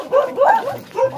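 A tied-up dog gives three quick yipping barks in close succession, near and fairly loud, with no talking over them.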